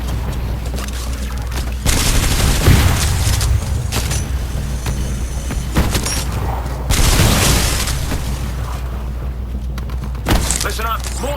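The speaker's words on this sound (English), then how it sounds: "mortar specters are still hitting the harvester" Mortar fire striking the harvester in Titanfall 2 Frontier Defense on Angel City, with repeated heavy booming bursts and crackling impacts in loud clusters over a busy game background, with voices heard in the mix.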